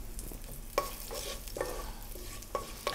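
Cumin seeds sizzling over high heat in hot coconut oil, a steady close crackle with a few small popping spikes, fairly quiet and without speech.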